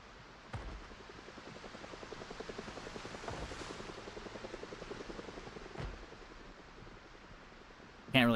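Helicopter rotor in Project Zomboid, a steady rapid blade chop throbbing at moderate distance throughout, with a couple of brief thumps and a short burst of noise at the very end.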